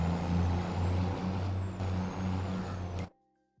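Truck in Farming Simulator 22 idling with a steady low engine drone as it pulls up, ending in a sharp hiss of air brakes followed by near silence.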